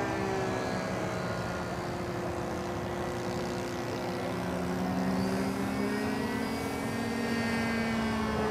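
The motor and large propeller of an E-Flite TaylorCraft RC airplane whir steadily, a continuous tonal buzz that rises slightly partway through and stays moderately loud.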